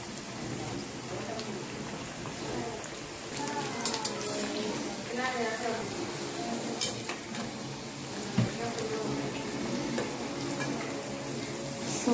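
Dal vada frying in a kadai until golden brown, a continuous dense sizzle and crackle of bubbling oil, close and steady, with a voice talking over it.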